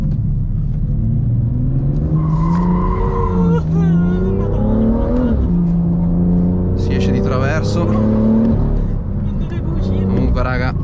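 A 370 hp BMW M2 drifts on a mountain road as its engine revs rise and fall and the tires squeal, loud and close, while a person talks over it throughout.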